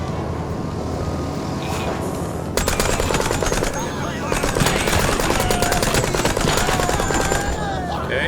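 Rapid machine-gun fire from the video game Mouse: P.I. For Hire comes in loud, dense, continuous bursts that stop briefly and then start again, with a voice speaking underneath.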